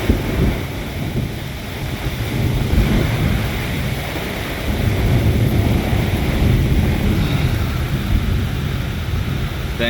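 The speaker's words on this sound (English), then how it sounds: "Oh, here comes a big gust." A strong gust of wind roars through a squall at Hillsborough Inlet, heard from aboard a sailboat, with steady loud rushing wind buffeting the microphone and low surf-like rumble throughout.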